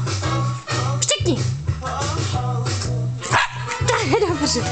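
A Jack Russell terrier barks repeatedly on command, sharp close barks and yips with a person talking in between.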